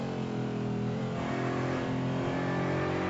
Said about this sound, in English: Who does love that grumbling V8 sound that the Aston Martin has?